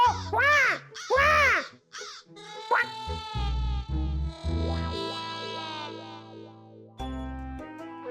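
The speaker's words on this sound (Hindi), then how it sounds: "कौवा का क्रो." Two harsh, effect-processed crow caws ring out loudly in a Hindi animated children's series, followed by a bright musical sting with a sustained tone.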